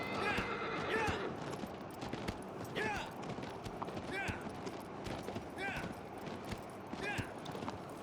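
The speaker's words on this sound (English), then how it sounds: "So here the horse slows down rather." Hooves clip-clop steadily through Shadow of the Colossus while a horse neighs and whinnies several times, all over a constant busy game backdrop.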